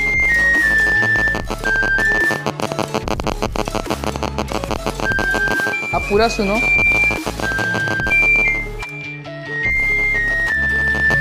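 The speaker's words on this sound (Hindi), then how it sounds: "तो ये है इसका रिंगटोन" A Nokia 1600 phone plays a bright, electronic ringtone melody that loops loudly in short repeating phrases, with a person speaking briefly over it.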